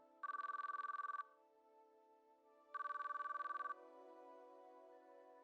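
An in-game phone rings twice in the visual novel Chaos Child, two steady electronic trills with a pause between, unanswered and alone over a quiet background tone.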